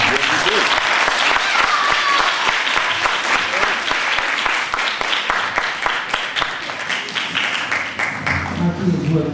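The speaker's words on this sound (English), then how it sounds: "we need a round of applause for everyone" Loud, full audience applause for student contestants at a music contest, a dense roar of many hands clapping continuously for nine seconds and tapering slightly toward the end, with faint voices mixed in.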